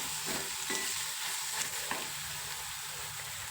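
Spices are being sautéed and stirred with onion and tomato in a pan for an eggplant bharit, giving a steady close sizzle with scraping stir strokes throughout and no talking.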